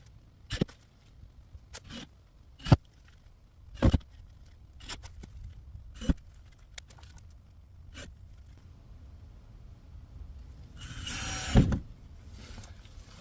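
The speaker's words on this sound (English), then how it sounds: "Let me get the rest of the screws and put them all the way around." Screws being driven around a 12-by-18-inch flush-mount shed window frame: a series of sharp separate bursts spaced a second or so apart, then a longer, rougher whirring stretch near the end, close and with no talk.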